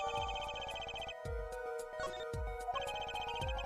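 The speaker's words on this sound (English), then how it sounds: "I see, and this is the phone that made the call?" Cell phone ringtone in the courtroom game Apollo Justice: Ace Attorney, a melodic electronic jingle with punchy rhythmic hits repeating in a steady loop, moderately quiet and without speech.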